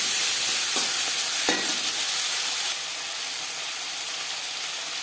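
Cumin seeds, dried red chilli and bay leaf fry in hot oil with a loud, even hiss broken by a couple of faint taps, then the sizzle drops slightly and carries on steadily.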